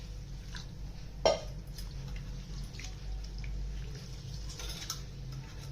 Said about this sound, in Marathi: आणि आता हे तांदूळ ना स्वच्छ धुवून घेते आता